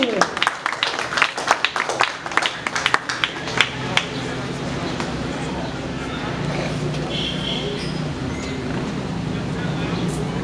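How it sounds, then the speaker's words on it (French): Audience applauding graduates at a Cap-Haitien graduation ceremony, with sharp distinct claps at first that blend into a steady wash of crowd noise and murmuring voices. "Il faut les applaudir."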